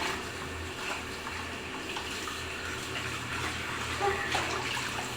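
Tap water runs steadily into a sink during dishwashing, a continuous close rush with faint clinks of dishes now and then.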